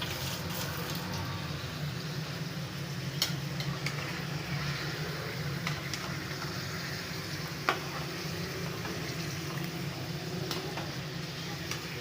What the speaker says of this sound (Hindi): चिकन तकरीबन फ्राई होने वाला है।